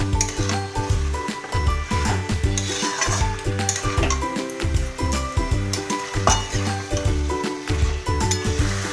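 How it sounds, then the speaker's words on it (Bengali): Chicken pieces get stirred into thick masala gravy in a hot frying pan, sizzling steadily while a spoon scrapes and clinks against the pan in a repeated, close stirring rhythm. "ভালো করে মশলাগুলো মাখিয়ে নেব চিকেনের গায়ে"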